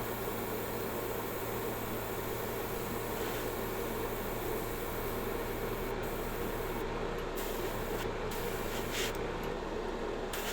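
Constant airbrush hiss spraying paint onto a sunflower bowl, an even, unbroken airy rush heard close up throughout, with no talk.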